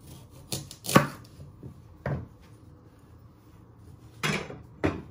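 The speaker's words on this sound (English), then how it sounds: "So you first chop your ends off your parsnip." A knife chopping the ends off a parsnip on a cutting board, a few sharp, close thuds spaced irregularly, the first one loudest, with quiet pauses between.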